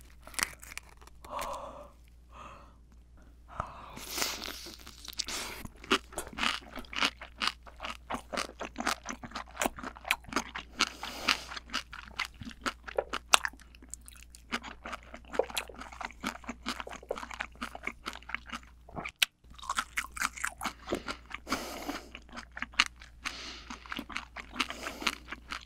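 Raw Dohwa shrimp dipped in soy sauce being chewed up close, with dense, irregular crunching and wet tearing bites running steadily throughout and a brief pause near the end.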